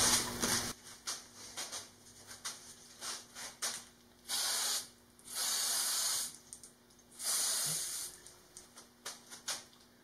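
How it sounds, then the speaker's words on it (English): Spray glue hisses from an aerosol can while a logo is being glued onto a surface: several short spurts, then three longer, steady bursts separated by pauses, close and fairly quiet. "spray glue."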